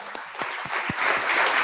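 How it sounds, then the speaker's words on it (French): Applause at a live pitch evening begins with a few scattered, distinct claps and quickly swells into fuller clapping from the audience over a short span. "On peut vous applaudir."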